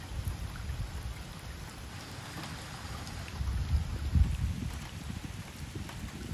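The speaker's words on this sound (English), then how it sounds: "Let's let this whirlpool ride out." Water swirling in a whirlpool down a storm drain in Portland, Oregon, a continuous rushing, gurgling wash that swells briefly partway through.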